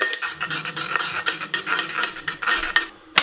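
Metal spoon clinking and scraping against a bowl as a pinch of salt is mixed into beef short rib ingredients, a steady close rhythm of stirring taps ending in one sharper clink.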